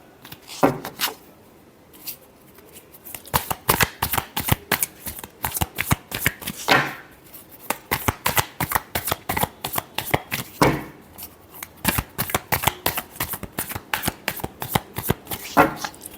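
Tarot cards are shuffled close to the microphone in rapid, crisp, fluttering bursts, with short pauses and rustles between rounds over about sixteen seconds.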